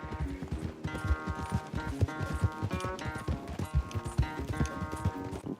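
Horse galloping during a race in the video game Red Dead Redemption 2, a fast, continuous run of clip-clop hoofbeats close by, with layered game sound effects and no speech.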